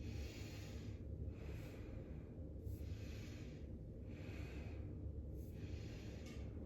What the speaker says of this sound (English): Inhale through the center, exhale to twist the other way.